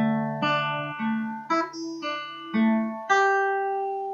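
Clean electric guitar picks out a song's interlude: a slow, unaccompanied phrase of about seven ringing notes, each struck and left to sustain into the next.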